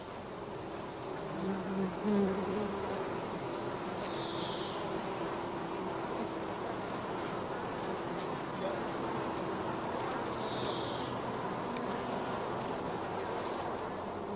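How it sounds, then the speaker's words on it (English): Honeybees drone steadily around brood frames in a swarm box, a dense continuous buzz close by, with occasional individual bees whizzing past over the steady hum. "Having moistened the sides of a funnel, we brush the young bees off several frames of brood."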